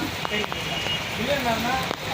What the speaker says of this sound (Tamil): மழை சரியான மழை